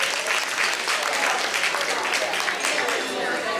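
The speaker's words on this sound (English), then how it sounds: "Can we give a round of applause to them?" Steady audience applause fills a room at a nonprofit's annual members' meeting, a dense, continuous patter of many hands clapping close by with faint voices mixed in.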